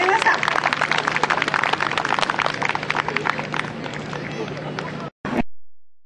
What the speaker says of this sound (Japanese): 盛大な拍手をお願いします。